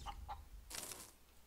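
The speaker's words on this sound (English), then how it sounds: "we can do that with our invulnerable chicken" A chicken in the video game Breathedge clucks in two short, close bursts, followed by a brief flutter of rustling or flapping, with no talking over it.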